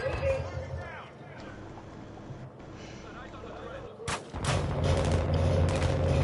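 Gunfire in a video game crackles and booms at moderate level through the clip, growing denser and louder near the end, mixed with player chatter.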